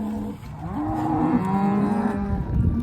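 A cow moos loudly nearby during a cattle vaccination roundup, one long, low, wavering bellow that rises and falls, with no talk over it.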